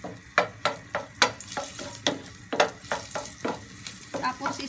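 Garlic sautéing in a hot pan, sizzling under a series of sharp, repeated stirring clacks of a utensil against the pan, close and fairly loud.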